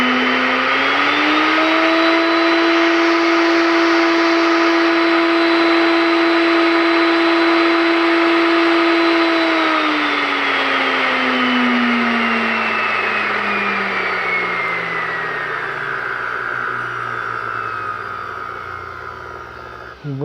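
Electric motor driven through a potentiometer dimmer set to full power, a loud steady whine that holds its pitch for about ten seconds, then slowly winds down, falling in pitch as it slows.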